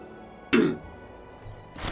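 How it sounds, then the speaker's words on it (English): A single sharp cough or throat clear rings out loud and close, followed by a quieter second burst near the end, over a near-silent background. "sorry if I just coughed at you a bit"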